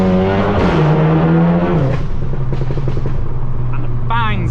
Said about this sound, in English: I'll shut up talking and we'll just listen to the car now